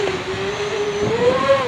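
An FPV quadcopter's motors whine through pitch manoeuvres with air mode on in Betaflight 2.15, a close, loud, steady tone that rises in pitch near the end, with no speech.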